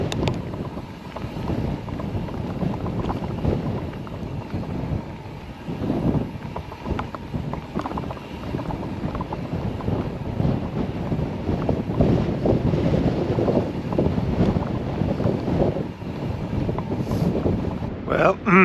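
Strong wind roars past a rider on Fleecer Ridge along the Great Divide mountain bike route, a loud, steady buffeting that rumbles without pause from start to finish.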